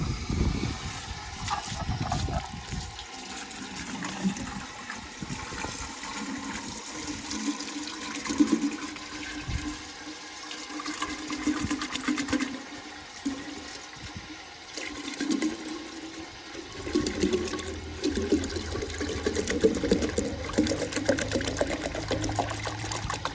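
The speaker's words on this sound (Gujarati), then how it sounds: "હાલો તો મિત્રો આપણે આવી ગયા છે પાણી ભરવા." Water runs from a tap while containers are being filled, a continuous close rushing flow that lasts throughout with a slight shift in tone partway.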